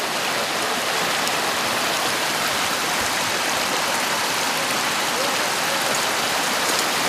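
Glacier-fed mountain spring water rushes continuously, a dense, steady, close-up hiss of flowing water with no pauses.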